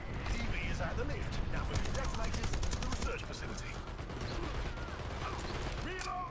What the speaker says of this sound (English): Wonder what gun that is.